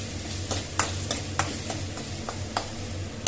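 Mango pachadi sautés in a pan under a soft, low sizzle, punctuated by regular light taps and scrapes of a spoon stirring against the pan.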